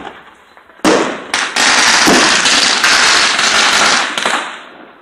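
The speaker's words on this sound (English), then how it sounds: "Ooh, firecrackers, I see." Firecrackers and fireworks burst at midnight on New Year's Eve, a sudden loud crackling barrage that starts abruptly and rages continuously for several seconds before tapering off, with no talk over it.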